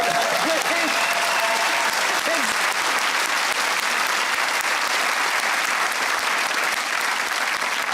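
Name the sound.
studio audience applause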